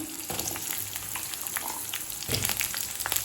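Small shallots sizzle and fry steadily in a pan for a chutney, a dense crackling hiss with scattered pops and a brief stir or spoon scrape partway through, close and alone without talk.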